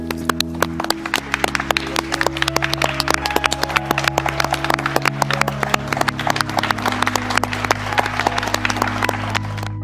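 A crowd gives a sustained minute of applause in tribute to Mexican actress Edith González, the dense clapping steady and close throughout over a low tonal hum.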